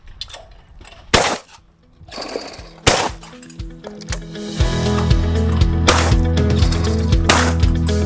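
A shotgun fires at sporting clay targets on an outdoor shooting ground, with sharp, loud reports at irregular intervals, rapid shots bunched toward the end over a steady mechanical hum.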